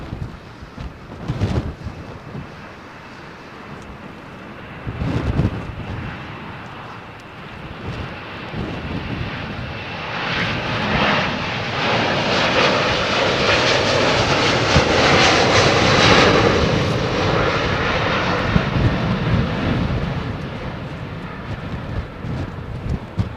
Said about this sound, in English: 767-400 making its way